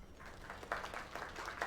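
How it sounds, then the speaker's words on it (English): Faint, thin applause from a small crowd at a bar gathering in the video game Lake, scattered claps running steadily for under two seconds. "Another round of applause."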